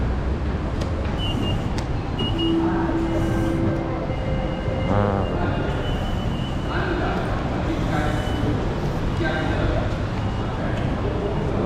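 A light rail LRT train at a Kuala Lumpur station rumbles steadily, with squealing tones and a rising whine as it moves, loud and close, while voices and a platform announcement sound over it.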